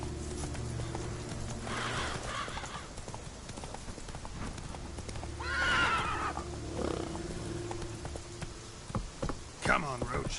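In The Witcher 3, a horse's hooves clip-clop in a steady walk, with a loud whinny partway through and another snort or neigh near the end, under occasional talking.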